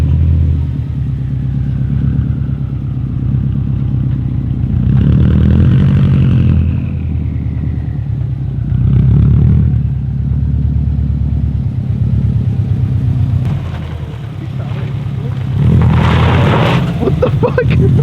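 A Subaru STI engine revs loudly in repeated swells, with the fitted blow-off valve venting in brief hisses and pops between surges, heard close up with no talk over it.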